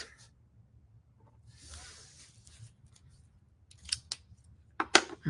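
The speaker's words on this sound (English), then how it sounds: "I'm going to take my detail scissors here and just do some cutting" Small detail scissors cutting out printed napkin art, quiet snips and paper rustle, with a few sharper clicks of the blades near the end.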